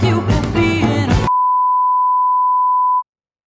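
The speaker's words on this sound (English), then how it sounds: "I'll save all of our collective ears by just ending the beep there" A steady censor beep tone cuts off the last sung word of a song, following about a second of singing with music and then holding alone for nearly two seconds before stopping abruptly.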